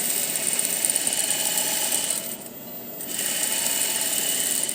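A sewing machine back tacks a skirt side seam with a fast, steady mechanical whir that dips briefly as the stitching reverses, then resumes at full speed.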